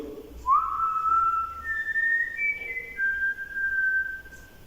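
A person whistles during a ghost hunt inside the Plaza Theatre in Northwich, a few clear sliding tones that rise and step through several pitches, close and alone against a quiet room.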